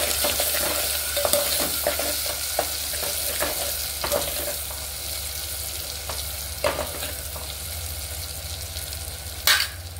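Onions and green chillies frying with turmeric in a pan for spicy Andhra mutton curry, a constant oily sizzle with scattered spoon scrapes and stirring knocks, one louder clack near the end.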